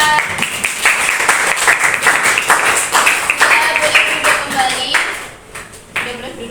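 Classmates clap for a student group after their presentation in a school lesson, a loud, uneven burst of hand claps that thins out toward the end, with a voice briefly audible.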